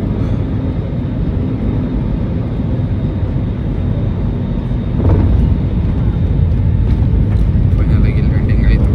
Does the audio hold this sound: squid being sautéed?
no